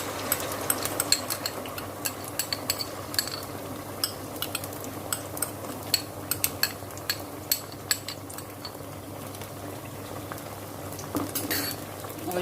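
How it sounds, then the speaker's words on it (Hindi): A garlic-ginger and tomato paste is stirred in a pan, a low bubbling sizzle broken by repeated soft clicks of a spoon against the pan's metal. "और इसको अच्छे से मिक्स कर लेते हैं।"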